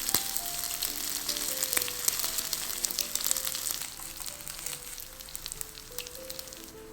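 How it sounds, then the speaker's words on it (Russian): Potato pancakes fry in a pan over moderate heat, giving a steady, close sizzle scattered with sharp crackles and pops that ease slightly toward the end. "Жарим оладьи где-то минутки по 2-3 на среднем огне"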